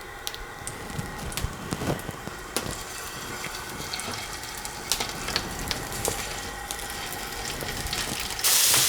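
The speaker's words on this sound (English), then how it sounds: "Fry those up to get them nice and crispy." Food frying in a pan until crispy, cooked plain without salt, gives a steady close crackling sizzle with scattered sharp pops throughout, growing slightly louder at the very end.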